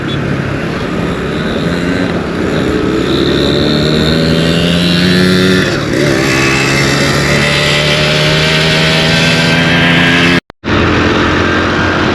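A 2022 Honda CD 70 motorcycle drones loudly and continuously while riding on a road in Islamabad, its engine note rising and falling with throttle changes under heavy wind noise, with a brief dropout near the end.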